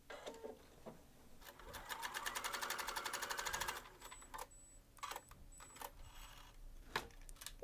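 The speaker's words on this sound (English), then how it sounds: "I'm going to just sew one line of these two little pieces." A sewing machine stitches one seam joining two small fabric pieces for a log cabin quilt square. A fast, even mechanical whir runs for a couple of seconds, followed by faint clicks and handling taps.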